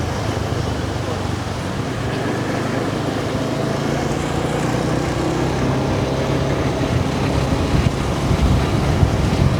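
Wind rushes steadily against a Rode microphone fitted with a furry dead cat windscreen outdoors in Chiang Mai, Thailand, a loud continuous low rumble and hiss throughout, with a voice faintly mixed in.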